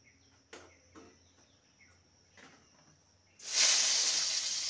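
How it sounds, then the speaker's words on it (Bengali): Tomatoes dropped into a hot pan while making spicy okra, with a few faint clicks first, then a sudden loud steady sizzle that starts partway through and continues to the end. "এবার টমেটোটাকেও ভেজে নেব।"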